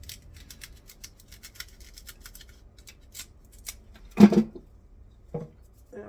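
Tops are snipped off dirty garden carrots with scissors, a series of crisp cuts, then a louder rustling chop near the end, close up and quiet, with faint sounds between cuts.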